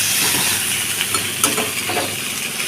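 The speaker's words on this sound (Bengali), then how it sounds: "পটল আলুটা আমার কষানো হয়ে গেছে এবার টমেটোটা আমি দিয়ে দেবো" Pointed gourd and potato sautéing in a pan, with tomato being added, make a loud, dense, continuous hiss of sizzling oil, marked by a few faint stirring clinks, close up with no talking.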